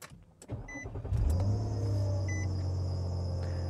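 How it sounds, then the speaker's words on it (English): A car engine cranks and catches, then settles into a steady idle hum, close and clear, with a brief electronic chime from a Pormido PRD80 mirror dash cam powering on. "Let's start the vehicle up."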